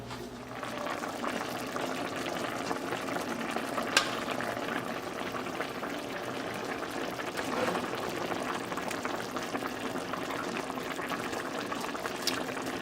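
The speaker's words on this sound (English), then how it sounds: "Once your cauliflower soup starts to boil" Roasted cauliflower soup boils in a pot, a steady bubbling and simmering texture that continues evenly throughout at moderate level, with a couple of faint clicks.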